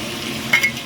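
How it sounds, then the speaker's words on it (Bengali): Minced meat and potatoes fry in a pan, a steady broadband sizzle with a couple of louder stirring scrapes near the end, close and alone without talk. "এবার কিমাটা দিয়ে এটাকে এখন এখন আবার দেখো নাড়বো চাড়বো ভাজবো"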